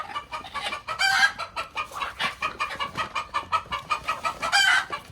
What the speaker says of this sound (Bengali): একটা মোরগ নিলাম